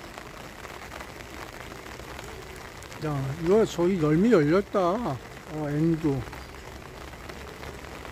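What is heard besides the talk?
rain falling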